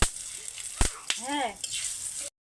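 Bay leaves and dried chillies hit hot oil in a wok and throw up a steady bright sizzle. A couple of sharp clatters of the pan and a brief voice sit over it before the sound cuts off.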